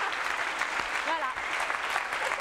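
A studio audience on a French TV variety show applauds and cheers over sustained dense clapping, with whoops and a high voice rising above the steady roar throughout.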